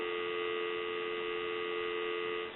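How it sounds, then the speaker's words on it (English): A steady landline dial tone on a converted chrome payphone holds one even pitch from start to end, continuous and unbroken, with nothing else heard. "give you some dial tone."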